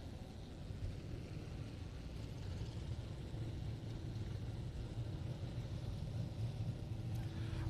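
Southern United Sprint Cars lined up at Texana Raceway Park, their engines a continuous low rumbling idle heard at a distance and holding steady throughout.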